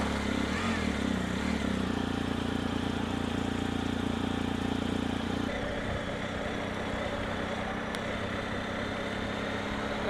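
A BMW R1250GS motorcycle engine runs steady and close while riding on a cool day, then drops to a lower, quieter drone partway through, with no talk.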